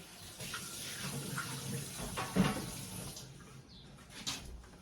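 Tap water runs into a kitchen sink while a pan is rinsed out, a soft, close, steady splashing wash with slight swells and a few clinks near the end.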